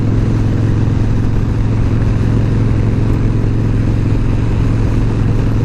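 Motorcycle being ridden on a pleasant day, a continuous loud mid-pitched engine hum with wind noise holding steady throughout, no voices.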